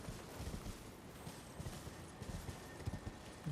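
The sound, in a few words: horse hooves of the horse knight in Elden Ring video game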